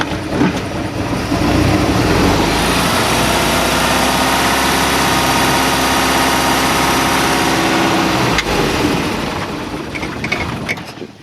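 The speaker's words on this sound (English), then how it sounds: "you always adjust the idle with the boat in the water. See, it just went into gear real nice." A boat engine idles in the water with a loud, steady mechanical drone that fills the whole span, broken by a sharp clunk as the gearbox shifts between forward, neutral and reverse.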